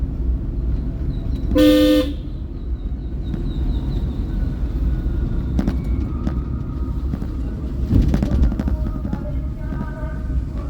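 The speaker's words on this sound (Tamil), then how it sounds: "ஹார்ன் அடிச்சிருக்கணும்ல தம்பி அடிச்சேன்" One short, loud car horn honk close by, over steady road and engine noise, with fainter traffic sounds afterward.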